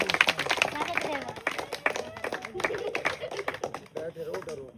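An audience at a village snake show claps in quick, scattered bursts, close and fairly loud, mixed with people talking and calling out.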